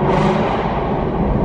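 A Shelby Mustang engine revs inside a parking structure, a loud, dense exhaust roar echoing off the concrete for a brief burst.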